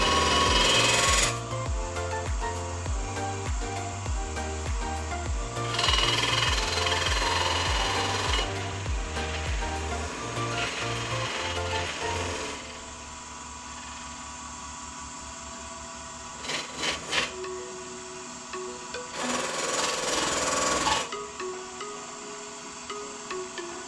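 A wood-turned cooking pan handle is buffed on a spinning machine, giving loud bursts of rhythmic whirring and rasping that stop and restart, with quieter gaps and brief scrapes between them.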